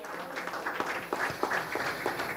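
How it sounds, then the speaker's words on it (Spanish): An audience at a church launch of a Bible and hymnal for the 2025 Jubilee gives soft, fairly distant applause, scattered hand claps over a hushed room. "Así que le damos un aplauso."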